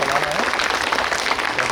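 Audience at a yoga workshop in a university physical education department applauds the staff, a dense sustained burst of clapping that fills the whole moment, with a voice faintly mixed in.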